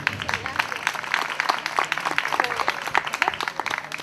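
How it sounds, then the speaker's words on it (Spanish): Audience applause at a Chilean Kennel Club dog show as a Yorkshire Terrier is named best in show, a steady crackle of many hands clapping with voices mixed in throughout. "el aplauso del público"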